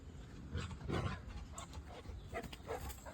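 A dog whines and whimpers softly in short, uneven bursts, fairly quiet and close, with some rustling movement around it.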